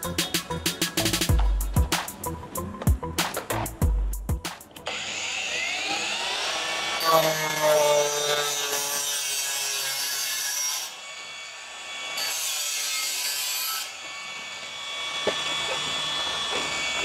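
An angle grinder with a 4-inch ProQuip cutting wheel cuts through material, opening with loud, rapid rough grinding bursts, then a steady high whine that dips and swells as the cut progresses.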